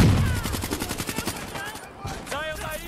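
Rapid automatic gunfire from Call of Duty: Black Ops 3 rattles out in loud, evenly spaced bursts, then gives way to game voice chatter near the end.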